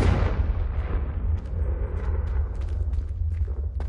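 The Confringo spell in Hogwarts Legacy goes off as a deep booming blast, a sustained low rumble with scattered crackling pops trailing over a few seconds.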